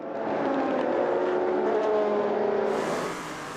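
Race cars scream past during the 4 Hours of the Red Bull Ring endurance race, a loud high-revving engine note rising and falling over about three seconds before fading.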